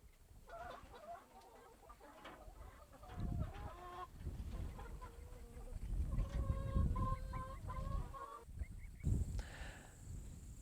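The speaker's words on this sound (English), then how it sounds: "We run about 500 broilers per 1 acre." Broiler chickens on a pasture farm clucking and calling, several birds overlapping at fairly close range, with some honking calls mixed in, no one talking.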